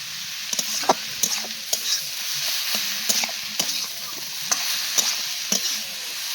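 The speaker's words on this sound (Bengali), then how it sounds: "তারপর দেখো এভাবে নাড়াচাড়া করে আরও কিছুক্ষণ নাড়াচাড়া করে নিলেই কিন্তু আমাদের পাতাকপিটা রেডি হয়ে যাবে।" Cabbage with peas is stirred and fried in a pan, with a steady sizzle under repeated scraping strokes of a spoon at an irregular rhythm, close and fairly loud.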